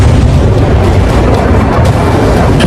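Rockets fired and exploding in the sky over Israel make a loud, continuous low booming rumble that stays dense and unbroken from start to finish.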